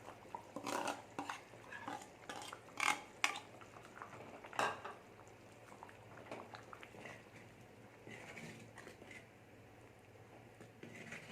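A spoon scrapes and clinks against a metal pot in repeated stirring strokes as ground coconut paste goes into a fish curry, with a soft simmer underneath and no talking.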